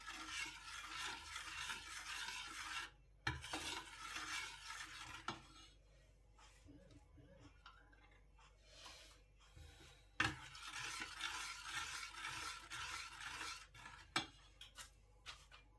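Sago pearls are stirred in salted water in a pot with soft, scraping strokes of a spoon against the metal. The sound comes in quiet bursts with short pauses and occasional clinks.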